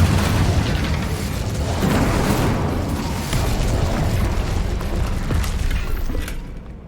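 Repeated magical blasting spells (Bombarda, Confringo, Incendio) battering a barrier in Hogwarts Legacy, a dense, loud rumbling roar of booms and crackling bursts that runs continuously for several seconds before tailing off.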